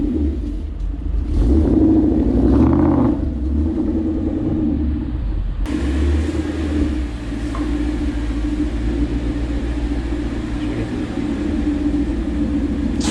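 Car driving through after-school traffic, a steady low engine rumble heard from inside with road noise and brief swells of acceleration, continuous and fairly loud throughout.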